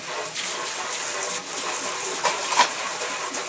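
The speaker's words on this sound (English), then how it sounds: "Let the hot water run for a minute." Hot water gushes steadily from a kitchen tap to rinse out a pan, a continuous hissing splash with small surges, close and fairly loud, alone without talk.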